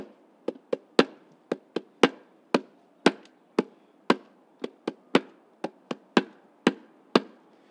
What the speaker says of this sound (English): There we have our bass drum for the band.